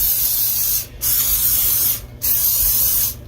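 Three bursts of aerosol cooking spray hiss up close onto a muffin pan, each about a second long, separated by brief pauses.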